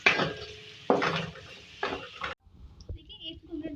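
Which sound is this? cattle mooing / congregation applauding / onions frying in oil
onions frying in oil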